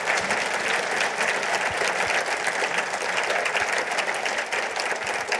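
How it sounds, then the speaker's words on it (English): An audience gives a round of dense, steady applause for the panel at an OSIRIS-REx mission discussion event, continuous and fairly loud throughout with no voices over it. "let's give a big round of applause to our wonderful panel."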